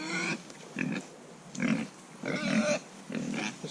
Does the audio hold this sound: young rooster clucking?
no